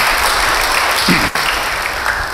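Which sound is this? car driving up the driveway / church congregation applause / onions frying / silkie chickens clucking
church congregation applause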